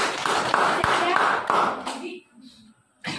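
Schoolchildren clap their hands together in a classroom biology lesson, a dense burst of applause with a few sharp accents lasting about two seconds before it fades into a brief quiet voice and a final short noise.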